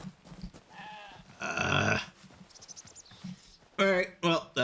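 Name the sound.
sheep bleating in a video game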